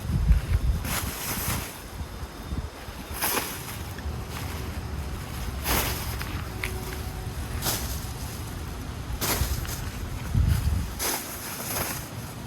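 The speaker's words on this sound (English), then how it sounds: "The wind is blowing." Gusty wind blowing outdoors on a yard where laundry hangs drying, roaring steadily with buffeting microphone rumble and stronger gusts throughout, no talking.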